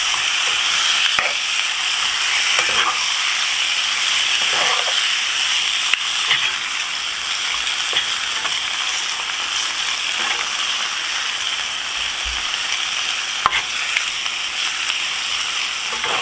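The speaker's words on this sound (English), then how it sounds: "Stir quickly." Gizzards frying over high heat in a shallow pot, a constant bubbling sizzle with occasional scrapes and knocks from quick stirring, steady and fairly loud, without talking.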